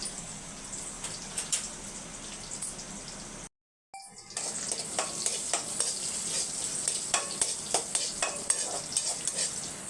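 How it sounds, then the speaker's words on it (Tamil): Cashews and raisins frying in ghee in a pan, a soft steady sizzle with scraping stirs, quiet and close, broken by a brief gap partway through. "முந்திரி வறுக்கிறதுக்கு நெய் ஊற்றிருக்கோமா பாதி ஈட்டானோன்னா முந்திரியும் திராட்சையும் சேர்த்து வறுத்து எடுத்துக்கலாம்"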